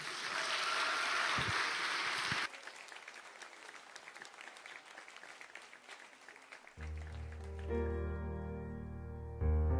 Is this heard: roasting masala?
no